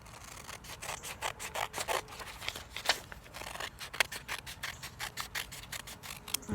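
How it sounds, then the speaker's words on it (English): Scissors cut paper in quick, uneven snips, close and fairly quiet, with no talking. "And then we'll take our scissors and we'll cut."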